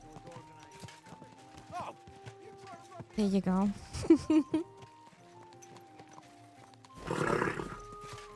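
A horse in Kingdom Come: Deliverance II, medieval open-world game: loud bursts of neighing and snorting, then hoofbeats clopping, with someone talking quietly between and over the sounds.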